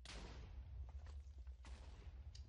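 A TNT explosion from a cannon in a video game gives off a burst of booming blasts with a deep rumbling low end and crackling debris, several quick hits over a couple of seconds, fairly faint.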